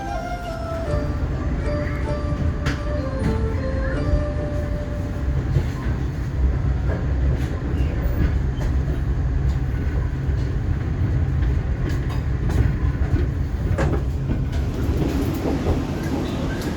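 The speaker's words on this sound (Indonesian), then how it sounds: "Kereta api Argo Bromo Anggrek tiba di stasiun Semarang Tawang" The Argo Bromo Anggrek passenger train arrives at Semarang Tawang station with a steady low rumble and rattle of carriages, wheels clacking and squealing faintly on the rails, sustained and close.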